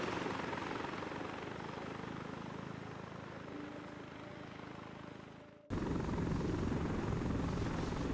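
A helicopter's rotor and engine in the video game Arma 3 roar steadily and loudly, with a sudden cut and a louder, brighter burst of the same drone near the end.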